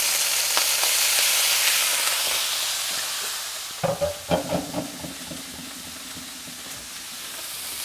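Steak is laid onto a hot griddle, a steady hiss of frying joined midway by a few sharp sizzling bursts as the meat hits the metal, then settling into a continuous softer sizzle.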